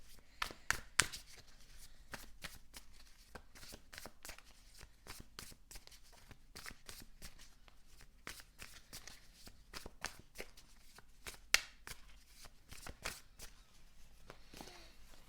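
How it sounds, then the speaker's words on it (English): Tarot cards being shuffled by hand: a long run of quick, crisp riffling and tapping bursts, fairly quiet and close, with no speech over it. "And let's pull some tarot cards."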